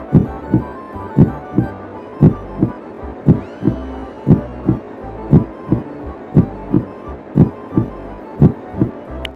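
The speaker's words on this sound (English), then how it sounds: "the soundtrack having like heartbeat noises and stuff playing the closer you get to the proposal" Tense heartbeat music during a marriage proposal scene in the video game Tomodachi Life, a steady lub-dub thumping with low hum and faint melodic tones, loud and rhythmic throughout.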